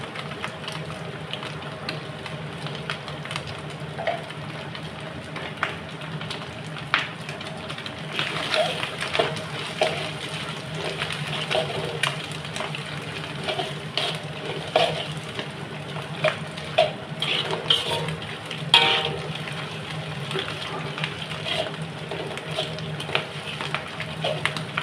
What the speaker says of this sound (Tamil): மேகி பெரட்டுறோம்.